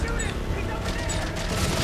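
Rapid gunfire from the sci-fi horror game Dead Space 3 rattles in a dense, continuous burst of loud shots, with voices mixed into the busy action.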